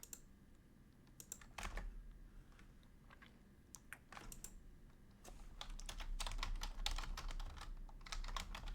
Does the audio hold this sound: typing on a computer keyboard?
yes